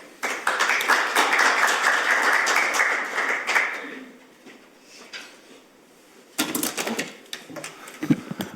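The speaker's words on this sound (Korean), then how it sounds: "큰 박수로 모시겠습니다" An audience at a Korean policy forum claps in welcome for a National Assembly member giving congratulatory remarks, with dense applause for about four seconds fading into scattered claps, then a second brief burst of clapping.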